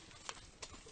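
Horse hooves clip-clop on the ground beneath a young horse being ridden, two distinct hoof strikes standing out over a steady outdoor background.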